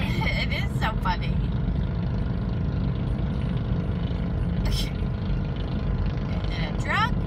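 A small, loud open truck with no doors drives past, its steady engine roar filling the whole stretch close by, while voices talk over it.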